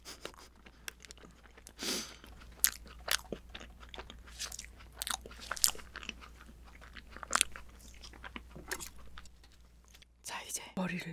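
Bites into the hard head of a giant octopus-shaped cake, sharp close crunches and snaps scattered over quiet chewing, with soft whispered speech in between.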